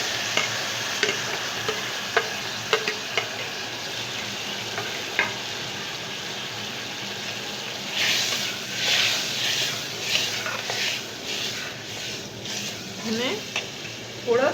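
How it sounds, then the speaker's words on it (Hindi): Tomatoes fry in hot oil in a pan for a potato curry, giving a steady close sizzle with scattered pops, then louder bursts of spatter as the pieces are stirred. "ये देखिए हमारा तेल गरम हो चुका है। डालकर अब इसमें मैं टमाटर 3 अदद मैंने लिए थे"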